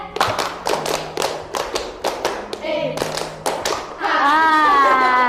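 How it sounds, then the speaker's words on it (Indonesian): A group in a school guidance session claps a rhythmic one-two-three pattern, with distinct sharp clap bursts in sequence. Children's voices rise at the end. "Oke, tepuk 1, 2, 3."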